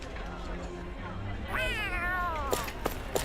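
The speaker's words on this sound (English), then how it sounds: "Why are we following a freaking cat?" A cat in the video game Tales of Arise gives a single drawn-out meow with a rising and falling pitch, moderately close over a quiet game background, followed by a few soft clicks.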